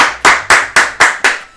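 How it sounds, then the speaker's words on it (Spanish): Six sharp, evenly spaced claps ring out close and loud, applause for a contestant on a Spanish-language game show, with no voices over them. "un aplauso para Heidi"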